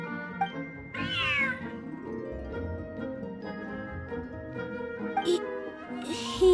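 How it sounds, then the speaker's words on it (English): A cat meows in a video game cutscene, giving several clear, drawn-out meows over a background of soft music, with one louder rising cry early on. "Smart cat."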